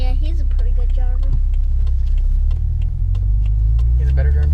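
A BMW F10 drives along with a steady low engine rumble and road noise close up, under speech at the start.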